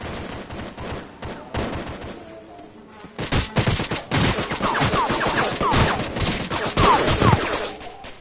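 Gunfire in a Roblox game, rapid volleys of shots crackling in dense bursts after a quieter opening, loud and close, with voices of players talking underneath.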